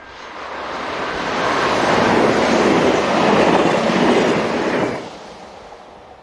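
Locomotive 16641 passes hauling its train bound for Laon, a loud broadband rumble of wheels and carriages that swells for about five seconds and then drops away quickly.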